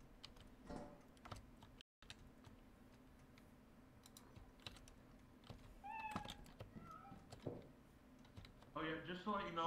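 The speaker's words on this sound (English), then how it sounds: "Wait, is that another cat?" A second cat gives short, faint meows partway through and a louder cry near the end, amid rapid keyboard typing and brief talk.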